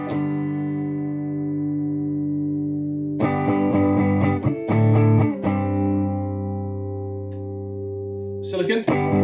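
A sustained electric guitar chord through a Chevtone Honeyburst germanium overdrive at zero gain rings out and decays, then several picked notes and strums follow with a lightly driven, slightly gritty tone.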